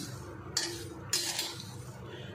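Washed and dried pearl millet (bajra) is dry-roasted in a pan, with soft grain rustling under a low hiss and a few light scrapes of a spoon against the metal.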